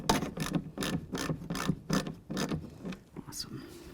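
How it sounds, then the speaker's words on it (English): A hand ratchet snugs up bolts on a 2007-14 Ford Edge front window regulator, giving quick bursts of sharp clicking in a steady back-and-forth rhythm, close and fairly quiet. "I'm going to grab my ratchet. I'll snug those up a little bit."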